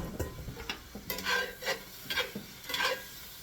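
Oyster mushrooms and scallops tossed in a hot pan, giving a steady soft sizzle with four or five brighter scraping bursts as the pan is shaken at a regular pace, close and fairly quiet.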